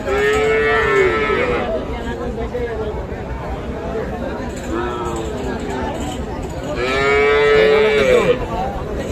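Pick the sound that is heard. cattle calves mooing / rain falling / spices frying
cattle calves mooing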